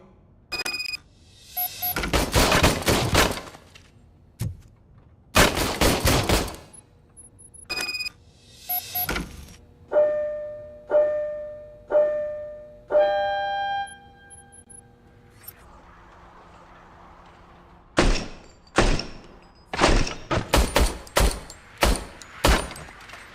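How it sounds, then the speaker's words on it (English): An old service pistol is test-fired at a range in the game RoboCop: Rogue City, a burst of sharp loud shots, then several spaced ringing clanks and beeps, then another quick volley of close shots; no speech. "I was issued this old gun and serviced it according to the manual. I will try it out."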